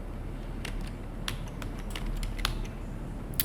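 Fingers type on a computer keyboard while a restaurant listing is re-entered on Google Maps, producing sparse light clicks and taps that sit faintly over a steady hum of room noise, with no voice.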